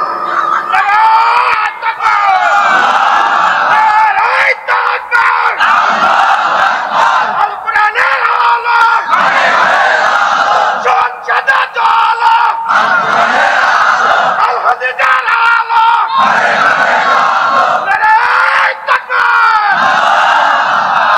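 A large crowd at a religious gathering shouts slogans in loud, rhythmic call-and-response bursts, each swell of massed voices lasting a couple of seconds and separated by brief drops, repeating over and over.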